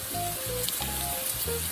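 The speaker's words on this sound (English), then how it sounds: "Listen to that sizzle." Food sizzles steadily in a hot sauté pan, a close, continuous crackling hiss with a low background hum and no talking.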